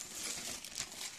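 Thin plastic bag that held a Ulanzi MT-61 tripod, crinkled close up in a steady, busy rustle of crackles lasting about a second, with no talk.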